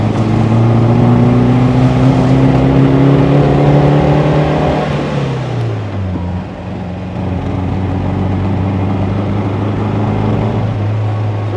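A 1600 MGA sports car's engine and transmission running at about 2,500 rpm with a misfire and a rough-sounding gearbox, a loud steady drone with whining tones that drops in pitch midway, then settles into a lower hum.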